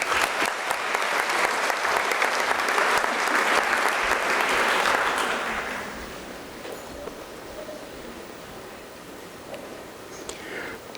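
Thunderous audience applause at a university spring graduation ceremony, a dense, loud wash of clapping that fades after about five seconds into a quieter, thinning patter.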